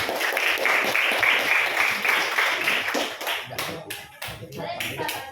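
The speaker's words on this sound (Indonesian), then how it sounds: "beri aplaus untuk Rizky ya" Classroom applause for a student named Rizky, a burst of many hands clapping loudly at close range that fades into scattered, separate claps toward the end.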